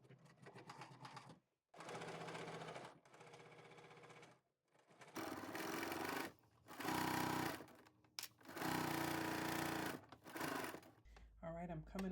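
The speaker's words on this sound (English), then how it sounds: "stitch these side seams down at 5/8 of an inch seam allowance" A sewing machine stitches side seams on a McCall's M8551 garment in several bursts of steady, close whirring separated by short pauses, with a person talking over it.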